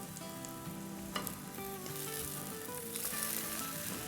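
Stuffed egg sizzling in a frying pan over a very low flame right after being flipped, a steady crackling fry that stays close and even, with no talk.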